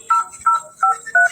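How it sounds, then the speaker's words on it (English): Telephone keypad tones as a number is dialed, four short distinct beeps in quick succession, loud and close with no talk over them. "Go ahead and dial that number."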